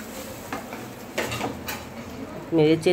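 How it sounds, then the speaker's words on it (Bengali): A spoon stirs a potato and cauliflower curry in a pan after water is added, with a few distinct clinks and scrapes over quiet background noise and a brief voice-like tone near the end. "এবার আমি জল দিয়ে দিলাম। জল দিয়ে নেড়ে চেড়ে"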